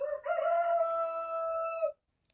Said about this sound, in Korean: 나무 위에 올라가 수탉이 소리쳤어요